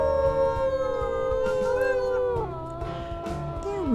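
Wolves howling in the forest game WolfQuest: several long, wavering howls overlap and glide downward, loud and close, with a brief break before fresh howls rise again.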